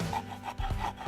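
Wood is rubbed and rasped by hand while a bow drill spindle is shaped, giving a few short, close scraping strokes in a steady back-and-forth rhythm.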